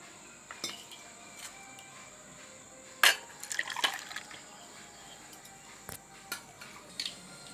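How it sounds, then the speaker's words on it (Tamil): Water splashes and trickles inside a blender jar as it is rinsed, with a few clinks of glass or metal and scattered drips; fairly quiet, no talking. "இப்போ ஜார் அலசி ஊற்றிக்கலாம்."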